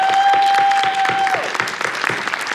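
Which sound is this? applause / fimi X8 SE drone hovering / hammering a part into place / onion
applause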